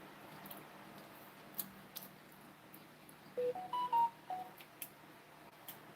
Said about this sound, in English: It's a new phone. I have to learn how to turn off the notifications.